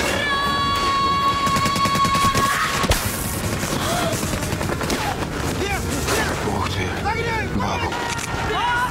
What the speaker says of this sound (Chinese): 端着刺刀面对敌人阵地的机枪火力